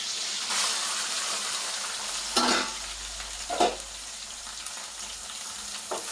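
Ginger garlic paste and tomato fry in a hot pan for a butter chicken base: a steady close sizzle with a few sharp scraping stirs that briefly flare louder.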